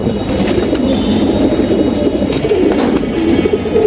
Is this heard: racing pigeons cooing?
yes